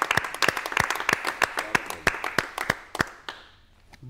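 An audience at a youth poetry gathering (kavi sammelan) welcomes the poet Sumit Singh with loud, sharp, evenly paced claps, roughly three per second, that carry on steadily and then trail off into quiet near the end.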